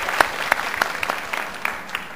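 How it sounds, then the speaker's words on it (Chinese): Applause from an audience at an erhu performance competition, welcoming a judge to the stage; a steady wash of clapping with several sharper claps standing out, fairly close and continuous throughout. "我们掌声欢迎宋飞评委。"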